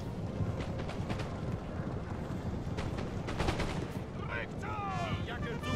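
Mounted shooting cavalry firing muskets in a Napoleon: Total War online battle, a dense crackle of overlapping gunshots with heavier volleys and distant booms, a voice briefly over the din near the end.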